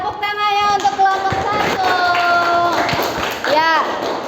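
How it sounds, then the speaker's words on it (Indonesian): A school class applauds a student group during an Indonesian lesson, a steady spell of clapping that runs the whole time, with children's voices chattering underneath. "tepuk tangannya untuk kelompok"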